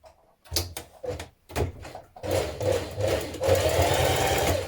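A sewing machine basting a tie in place on a summer top, starting with short stop-start bursts of stitching and then running in a steady, close, mechanical whir that grows denser toward the end.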